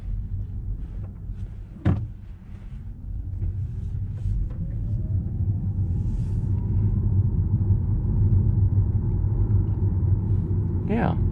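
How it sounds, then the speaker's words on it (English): A 2019 Mini Countryman S Hybrid drives in electric mode with a steady low rumble of road and tyre noise and a faint rising electric whine as it gathers speed, plus a brief knock and a clunk at the end. "Let's put it in max e-drive."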